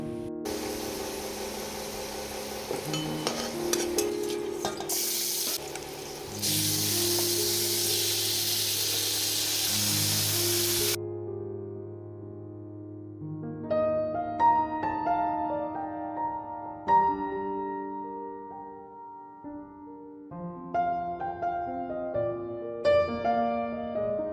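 Ridge gourd and potato curry sizzling in a pan: a loud, steady frying hiss for about ten seconds that then stops, followed by tonal music.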